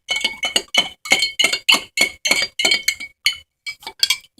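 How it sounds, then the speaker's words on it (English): A spoon stirs salt into vinegar in a glass, making a rapid series of loud, close, bright clinks against the glass in an irregular rhythm with no talk. "We're going to stir it up and watch it dissolve until you don't see it no more."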